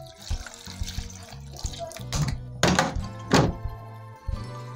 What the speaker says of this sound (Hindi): मैं इसमें गर्म पानी डाल रही हूँ थोड़ा सा।